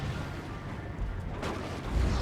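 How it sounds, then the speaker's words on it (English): A Space Marine Dreadnought fires an assault cannon barrage in Dawn of War 2, a continuous rumbling stream of rapid shots and distant booms within battle noise. "Big old assault cannon barrage"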